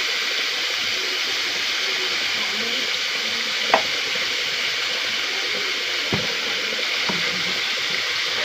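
Bottle gourd curry with spices stirred in a pan, a steady soft sizzle running throughout with a few brief scraping clicks of the spoon against the pan, close and moderately loud with no talking.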